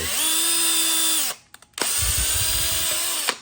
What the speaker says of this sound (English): It'll start melting the hole instead of drilling the hole.